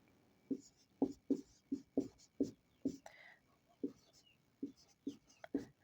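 Pen strokes scratch across paper in quick rhythmic bursts, roughly a dozen close strokes in a row, as notes are written during a geography lecture.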